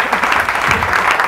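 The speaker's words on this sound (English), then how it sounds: "we're clapping. We're clapping." Audience at a Nerd Nite talk in Orlando clapping steadily throughout, a dense even patter of many hands filling the short span without a break.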